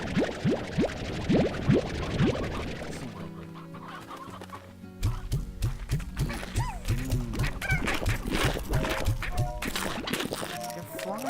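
Chickens in the Slime Rancher video game cluck and squawk amid busy game sounds, with splashy effects and a rhythmic pattern of repeated clucks in the second half.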